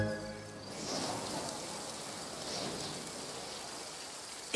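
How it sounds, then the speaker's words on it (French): Steady rustling hiss of ash tree leaves stirred by wind, swelling gently in soft waves, continuous and fairly close, with no voices. "le vent qui souffle et fait frémir les feuilles de ce frêne"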